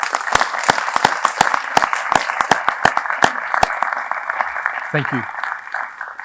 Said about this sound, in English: a big round of applause for our 2020 graduates